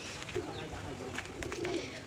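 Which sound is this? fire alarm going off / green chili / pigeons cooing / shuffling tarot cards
pigeons cooing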